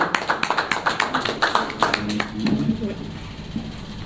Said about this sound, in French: Je pense que vous pouvez quand même applaudir.